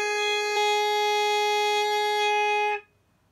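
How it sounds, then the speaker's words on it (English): A saxophone mouthpiece on the neck gives a first note, a bright, buzzy, steady tone with a slight pitch shift early on, held for under three seconds and then cut off, close and alone. "So we're going to make our first sound on the mouthpiece."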